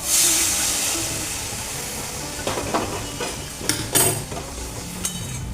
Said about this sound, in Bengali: মশলাটা কষানো হয়ে গেছে, এবারে আমি গরম জল করে রেখেছি, সেটা দিয়ে দিলাম।